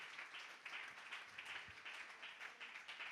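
Congregation applauding God during a church service, a soft, steady patter of many hands clapping at a distance, faint and unbroken.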